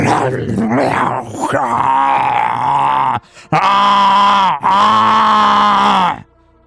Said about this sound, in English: You hear some kind of creature.